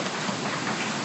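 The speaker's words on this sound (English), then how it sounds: "The rain is actually making it hard for anybody to hear you." Heavy rain pours down during a bad storm, a dense steady roar of drops on surfaces, loud and uniform for the whole short moment.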